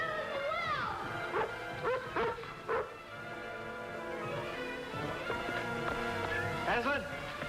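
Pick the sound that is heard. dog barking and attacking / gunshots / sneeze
dog barking and attacking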